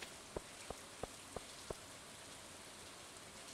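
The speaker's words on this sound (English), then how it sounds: "it's raining in fall, which means catfish" Soft rain falls in Stardew Valley, a faint, steady hiss with a run of evenly spaced light ticks near the start.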